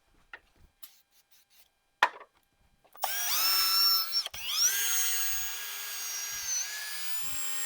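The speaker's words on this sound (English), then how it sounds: "keep sanding till you get almost all of that yellow out." A few light taps and clicks, then a power sander whirs up and runs steadily with a high-pitched grinding whine on a yellowed car headlight lens, briefly interrupted before continuing.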